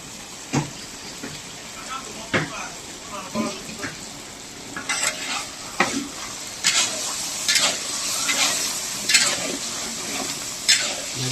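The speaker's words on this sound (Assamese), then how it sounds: "এতিয়া দিম কেপচিকাম আৰু পিঁয়াজ।" Capsicum and onion fry in a pan for chilli fish: a steady sizzle close by, with repeated clacks and scrapes as the vegetables are stirred.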